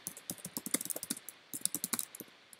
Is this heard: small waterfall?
no